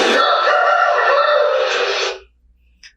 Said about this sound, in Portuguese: É um galo cantando.